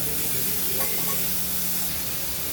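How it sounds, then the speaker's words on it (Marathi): Sizzling and stirring of a vegetable sautéing in a pan, a steady close hiss with faint scraping and no voices. "थोडं परतूया."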